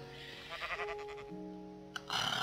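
A sheep in the Minecraft video game bleats in a short wavering burst amid game music tones, followed by a brief click and a louder noisy rush at the end.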